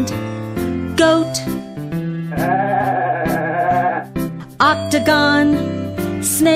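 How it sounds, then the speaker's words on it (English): A goat bleats in a wavering, quavering call set between cheerful tonal music phrases, loud and close. "goat"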